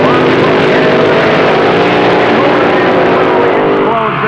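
Drag racing cars at the 1966 NHRA World Finals, loud continuous engine roar with a rising whine that holds steady throughout and shifts near the end, with no clear talking over it.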